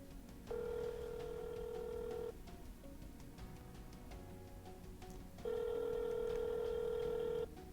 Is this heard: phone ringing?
yes